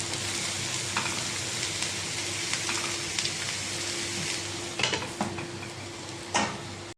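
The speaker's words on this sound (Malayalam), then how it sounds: "ഒന്ന് ഇളക്കി നമുക്കൊന്ന്, വെള്ളമൊന്നും വേണ്ട, മൂടി വെച്ച് വേവിച്ച് എടുക്കാം" Ponnamkanni spinach thoran cooking in a pan, with a constant sizzle and frying hiss while a utensil stirs and scrapes, giving a few sharp clinks near the end.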